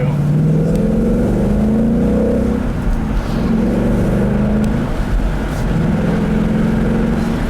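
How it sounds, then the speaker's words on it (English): A car engine still being broken in accelerates, kept under 4,000 RPM. The loud, close engine note climbs in pitch in rising waves, easing and pulling again. "I'll leave you guys with a nice little acceleration here, like I always do."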